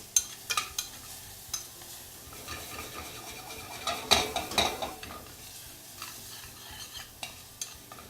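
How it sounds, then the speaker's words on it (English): Chopped jalapeno sautéing with leeks in a pan, a steady soft sizzle broken by repeated scraping stirs of a utensil against the pan, close and clear with no talking. "Next, I've got some chopped jalapeno. That's going to go in and saute with the leeks."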